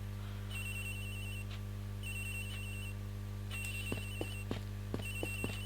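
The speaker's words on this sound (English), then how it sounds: "Agent Hicks' phone! It's ringing from somewhere, sir!" A telephone rings in the Miles Edgeworth: Investigations video game, with repeated electronic ring bursts in an even rhythm over a steady background drone, joined later by short sharp clicks.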